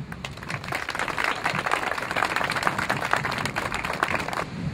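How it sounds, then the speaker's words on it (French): At an outdoor war commemoration in Neuville-Saint-Vaast, a crowd applauds three groups in place of a minute of silence, giving a dense, sustained clapping that stays steady and fairly loud throughout. "je vous demande d'applaudir ces trois groupes"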